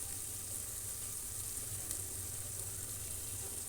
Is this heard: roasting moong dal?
yes